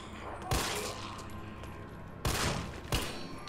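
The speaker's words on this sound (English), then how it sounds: "Oh, I shot him in the neck." Gunfire in the Resident Evil 3 video game comes as three sharp, loud bursts spread unevenly over a murmuring game background, with the last two shots close together.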